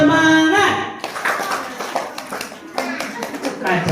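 Rhythmic clapping from an audience at a Maulid Nabi gathering, led by an ustad calling clap patterns; quick bursts of claps mixed with voices after a sung opening.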